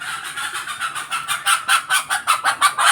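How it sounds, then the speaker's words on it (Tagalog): Chickens at a house where a front yard is being cemented make a steady run of loud, rhythmic calls, about a dozen pulses repeating close to the microphone with no one talking. "Ingay ng manok."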